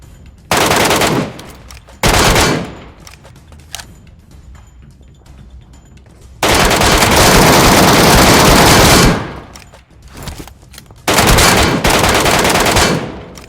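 Distant shooter firing in PUBG, heard as several loud sustained bursts of automatic gunfire separated by quieter gaps, with no voices.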